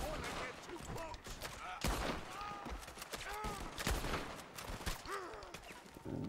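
Gunfire aimed at men approaching through fields in the Red Dead Redemption 2 video game, with repeated sharp shots spread across the stretch over a busy mix of game sound and voices.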